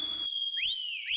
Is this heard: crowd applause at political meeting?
no